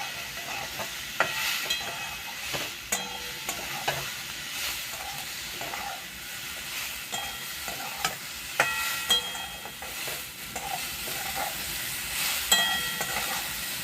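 Lentil mixture with salt and turmeric being stirred and fried in a pan, with scraping strokes of the spoon over a low, steady sizzle, close up and without talk.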